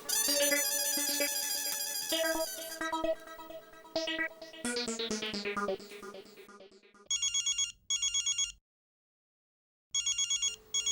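A telephone rings in repeated electronic bursts with short pauses between them, loud and close, after a stretch of busy melodic music.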